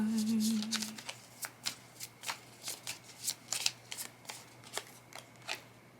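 A tarot deck is shuffled by hand, giving a steady series of about a dozen crisp riffling bursts, close and clear with short pauses between them.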